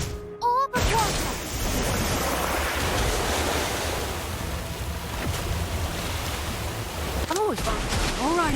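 A water spell called Orb of water in a video game, a sustained rushing, surf-like wash of water that fills the whole stretch, with brief chirpy voice-like sounds near the start and end.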